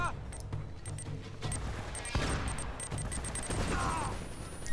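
Grenade explosions in the video game Uncharted: Drake's Fortune, a sharp blast bursting amid crackling gunfire, with clinking game noises at a moderate distance.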